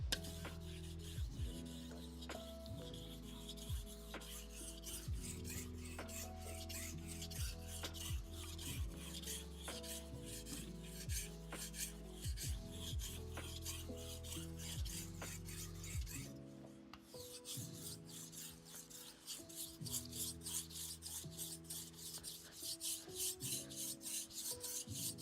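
A blade is sharpened on a stone in a late-night session, with steady rhythmic rasping strokes running throughout over continuous tonal music in the background.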